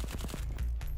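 Rapid automatic gunfire in the shooter game VLADiK BRUTAL, a quick burst of several close, loud shots in a fast even rhythm.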